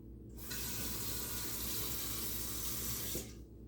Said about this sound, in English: I'm going to add a little bit of water in here.